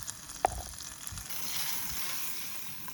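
Venison searing in a hot pan with butter at a lakeside lunch spot, a soft steady sizzle with a brief sharp pop near the start, heard alone.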